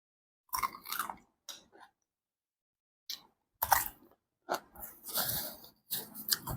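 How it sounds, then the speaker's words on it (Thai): Crunchy vegetables chewed close up, from a spicy Thai salad of dory fish and moo yor pork sausage: crisp, wet crunching bursts arrive in irregular clusters, separated by short silences. "ผักกรอบมากค่ะทุกคน"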